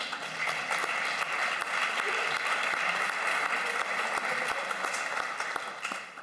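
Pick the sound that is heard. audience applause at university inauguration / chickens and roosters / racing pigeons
audience applause at university inauguration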